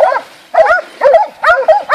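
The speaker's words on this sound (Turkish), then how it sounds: "köpeklerin sesine gelin lan, bu kaçıyor bayağı" Several hunting dogs bark during a wild boar hunt in Samsun's Terme district, giving about five sharp, loud, close barks in a quick, uneven series with no voices between them.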